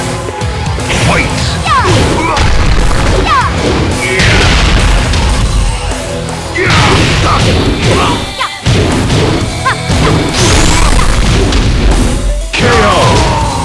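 Tekken 8 fight between Lili and Anna: loud, dense game combat with booming hits, crashes and whooshing strikes, continuous throughout with brief dips, layered over music and announcer-style voices.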